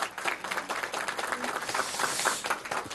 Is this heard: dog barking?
no